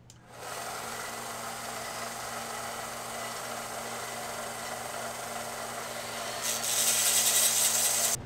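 A steady whirring drill bit grinds continuously into plastic, with a harsher, brighter pitch toward the end.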